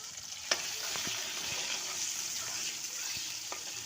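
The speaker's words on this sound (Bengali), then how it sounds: "তো প্রথমে আমি পেঁয়াজ ভাজা লইতেছি," Onions frying in a pan: steady close oil sizzle throughout, with a few sharp clicks of stirring and no talk.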